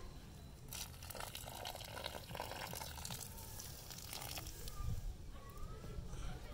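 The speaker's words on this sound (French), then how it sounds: "Et maintenant, je vais arroser avec de l'eau." Hot water is poured onto soil where corn seeds were planted with fertilizer: a soft, continuous splashing and gushing, fairly faint, with no clear talk over it.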